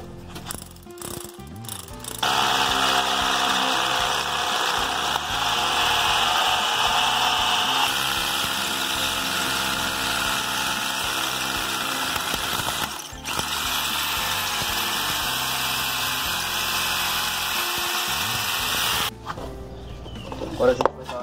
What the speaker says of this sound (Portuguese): Eu vou estar usando uma broca de 12 milímetros.